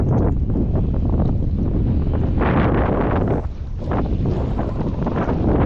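Strong wind roars and buffets the microphone continuously, a loud rushing gust that swells and dips briefly before surging again, with no voices.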